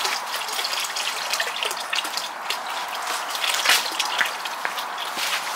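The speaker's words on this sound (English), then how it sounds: "So we are gonna dunk our pump." Water splashes and trickles steadily at close range as a small pump is dunked into a greenhouse pond, with gurgling bursts and no talking.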